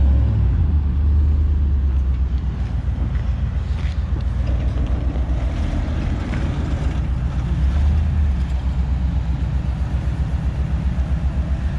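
A Ford Expedition revving hard for a burnout in a dealership parking lot, a loud steady low engine roar that holds for the whole stretch with slight swells, no talk.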